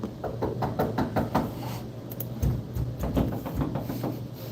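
Knocking on a door in a video game: a string of sharp, evenly spaced knocks, a pause, then a few more, fairly loud and close.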